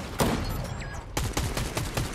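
Rapid gunfire sprays down from high ground in a Fortnite tournament match, a burst of sharp repeated shots followed by a quieter stretch and then a renewed string of evenly spaced shots.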